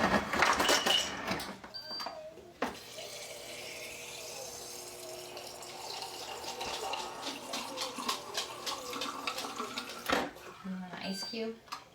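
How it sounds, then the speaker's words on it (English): Water running from a kitchen tap into a container, a steady rushing stream lasting several seconds between brief bursts of speech at the start and end. "Just getting some water while I give people a chance to get on."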